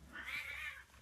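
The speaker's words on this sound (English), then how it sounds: "Cats are fighting." Cats fighting outdoors, one drawn-out caterwauling yowl rising and falling over about a second, faint and distant.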